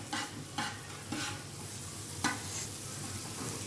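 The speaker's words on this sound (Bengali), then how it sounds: "সবগুলো ভালো করে কষিয়ে নিচ্ছি" Spices with cumin powder, a splash of water and ginger paste sizzle steadily in a pan, with four distinct scraping strokes of a spatula spaced about half a second apart, close and fairly quiet, no voices.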